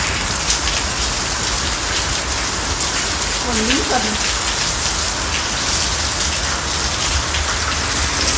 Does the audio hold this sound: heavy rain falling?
yes